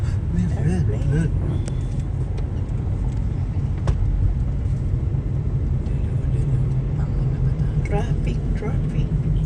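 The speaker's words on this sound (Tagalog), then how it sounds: "Traffic on the highway." Steady road rumble of highway traffic on Highway 400 toward Mississauga, heard from inside a moving car, with voices talking over the constant drone.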